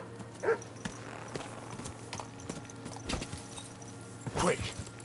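A horse's hooves clip-clop steadily on the ground in the medieval game Kingdom Come Deliverance 2, moderately close, with a few louder footfalls standing out over a low background hum.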